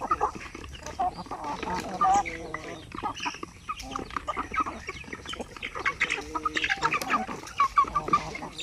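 Native chickens cluck and call repeatedly on a poultry farm, scattered soft clucks mixing with busy background farmyard noise at a modest distance.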